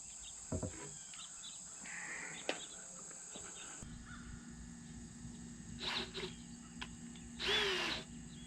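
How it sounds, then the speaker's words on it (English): Power drill boring a hole during floor framing of a house addition, with a few short whirring bursts of moderate loudness standing alone, no talk. "So now I'll drill out a hole right there."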